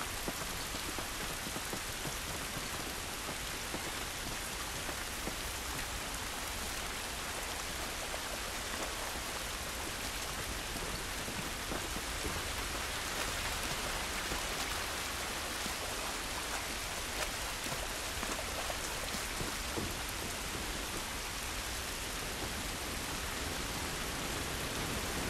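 Steady rain falls throughout an outdoor scene in the video game The Last of Us, a dense continuous hiss of drops on surfaces, even and unbroken from start to finish with no voices.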